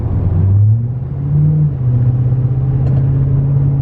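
A 2020 Duramax diesel pickup engine runs close by with a steady low rumble that rises slightly in pitch a couple of times, with no voices.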